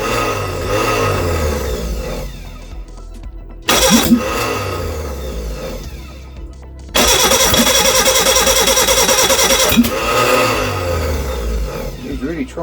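A Reliant Regal Supervan 3 engine cranks repeatedly as it tries to start, with rhythmic starter churning in several bursts separated by short pauses and brief coughs of firing, close and loud.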